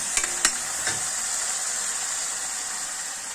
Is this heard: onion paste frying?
yes